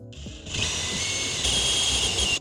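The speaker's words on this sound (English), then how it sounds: "we're gonna take our step drill and make these bigger so it fits the M10 bolts" A power drill with a step bit whines steadily at high pitch, growing louder and harsher partway through as it bites into fiberglass to enlarge a hole; close and continuous.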